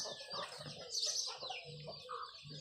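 Chickens cluck and murmur at a low level, with a brief higher call in the middle, fairly distant and without speech.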